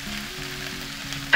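Pork back ribs sizzle as they are laid on vegetables stir-fried over high heat in a hot pan for a Spanish-style braise, a close, steady frying hiss with a brief sharper crackle at the end and no talking.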